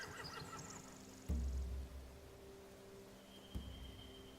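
Horses in The Walking Dead video game neighing faintly amid quiet ambience, with a soft thump and a brief whinny-like cry, low and distant.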